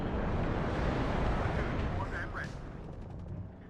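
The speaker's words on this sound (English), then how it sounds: "But big artillery coming in onto the airborne engineers" Heavy artillery fire from the video game WARNO, shells landing on airborne engineers, a dense rumbling barrage of overlapping booms that fades slightly toward the end.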